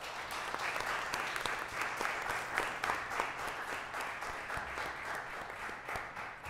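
An audience applauds the police chief candidates at the close of a Q&A session, with dense, even clapping throughout and no talk over it.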